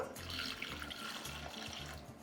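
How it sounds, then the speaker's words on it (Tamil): Water pours from a tap into a pressure cooker pot holding jackfruit seeds, a steady close splashing and gurgling stream with small pulsing bubbles, moderately quiet. "இப்போ தேவையான அளவு தண்ணி சேர்த்துக்கலாம்."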